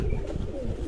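Domestic pigeons of a khaki colour cooing in a breeding loft, a close, soft, continuous low cooing with overlapping murmurs throughout.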